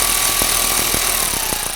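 A grounding bolt is driven down through wire terminals on a 2022 Ford Maverick, a loud buzzing power-tool whir with rapid rhythmic ratcheting pulses, close and continuous.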